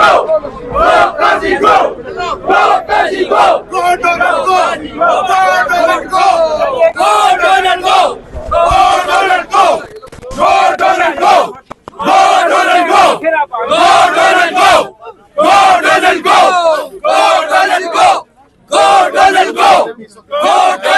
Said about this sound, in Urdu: گو قاضی گو کے نعرے لگائے جا رہے ہیں۔